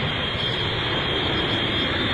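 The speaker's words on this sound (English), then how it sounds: "as Wonder Woman pilots her robot plane out to the heart of Africa" Wonder Woman's robot plane in flight, a steady, loud, continuous engine roar with a faint high whine, heard alone with no talking.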